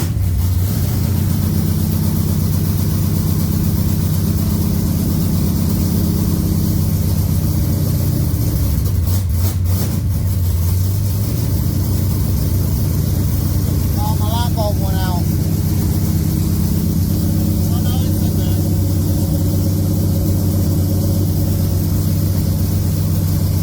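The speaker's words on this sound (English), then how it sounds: "It starts good, but it won't stay running by itself until it gets warmed up" A 1980 Pontiac Trans Am engine runs loud and steady for the whole stretch, a rough carbureted V8 rumble with a few brief bursts partway through and faint voices now and then.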